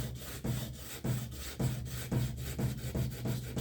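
Rhythmic back-and-forth rasping of a Remington 597 .22 rifle stock edge being beveled at a slight angle, with about seven even strokes close up and no talking.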